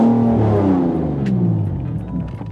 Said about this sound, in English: the only reason why this car is loud is because we sold the mid pipe.